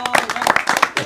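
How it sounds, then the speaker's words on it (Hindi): Brief bursts of clapping from an audience at an outdoor village gathering, a quick uneven patter of hands lasting about a second, close and fairly loud. "एक बार और ताली बजाइए जोरदार आप।"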